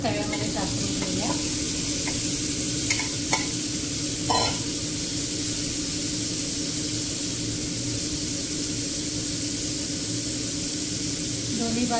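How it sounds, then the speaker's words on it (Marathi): Vegetables for a kabuli chana frankie roast on a hot tava, giving a steady, loud, continuous sizzle throughout, broken by a few faint clinks as they are stirred. "भाजी तव्यामध्ये टाकून घेऊया।"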